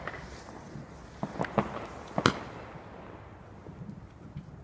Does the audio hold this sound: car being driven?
no